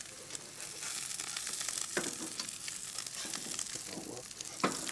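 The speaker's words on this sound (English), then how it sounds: "We're just gonna give them a little sear." Quinoa cakes sear in a hot pan with a steady, close sizzle and crackle that runs throughout, broken by a few sharper pops and spatters.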